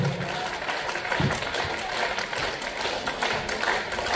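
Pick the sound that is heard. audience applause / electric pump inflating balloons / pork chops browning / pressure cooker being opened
audience applause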